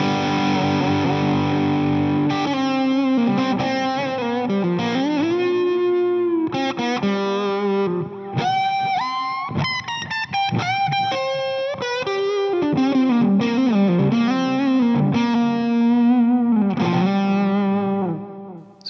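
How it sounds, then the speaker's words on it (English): A distorted electric guitar plays a lead line that breaks into sudden sliding bends, notes gliding up and down in pitch with sustained, saturated tone. Loud and continuous for nearly twenty seconds, with no speech. "I was playing kind of in a comfortable position and then out of nowhere, a super slide into a bend"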